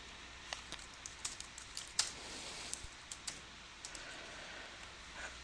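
A computer keyboard is typed on in a quiet room, a light, irregular run of soft key clicks with one sharper tap near the middle, faint and close.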